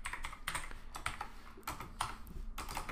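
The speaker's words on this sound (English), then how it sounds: "let's type some headers" Rapid typing on a computer keyboard while writing API test code, with irregular bursts of close, crisp key clicks and short pauses between words.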